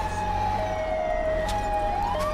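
A British police car siren wails in the LCPDFR video game, a steady, sustained wail heard alone without talk.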